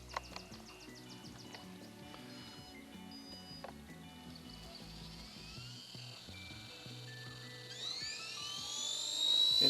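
A small RC toy helicopter lifts slowly off its pad, a thin electric motor whine climbing steadily in pitch and loudness toward the end over faint background clatter.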